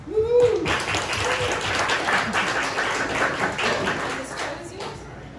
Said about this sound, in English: Please help me in giving Nick a warm round of applause.